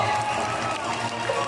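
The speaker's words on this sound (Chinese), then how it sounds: "来，朋友们，掌声不停，我们坚持最后3秒" An audience claps continuously at a sea lion show in Xiamen, China, a dense, steady patter of applause with a faint voice underneath.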